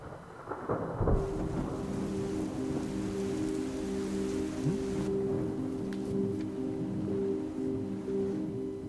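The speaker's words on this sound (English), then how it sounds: "It's a stormy night." Thunder cracks sharply at the start of a stormy night, then a long low rumble rolls on beneath steady rain pattering on surfaces, with no voices.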